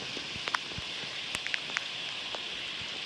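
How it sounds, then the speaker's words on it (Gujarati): Light rain falling steadily, with scattered sharp drips and taps of drops hitting a surface nearby, soft hiss underneath. "વરસાદ ચાલુ જ છે હજી."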